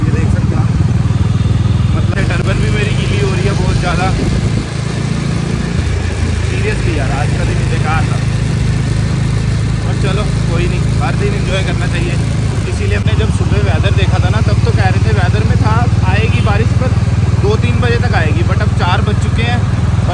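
Motorcycle engine running steadily through a constant wash of heavy rain and wind noise, with someone talking over it in Hindi.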